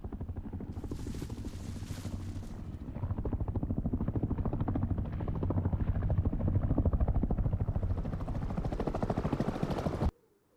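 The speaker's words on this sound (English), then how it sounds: "Is that an attack helo?" An attack helicopter in the video game Rust thunders close by with a dense, rapid rotor chop that grows louder and steadier, then cuts off abruptly near the end.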